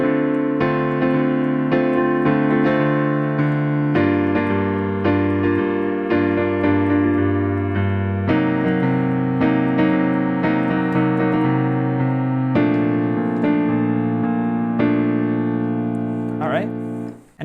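Piano accompaniment for a pop song, sustained chords over steady left-hand quarter notes, played alone at a moderate tempo with a loose, even pulse and changing harmonies every couple of seconds.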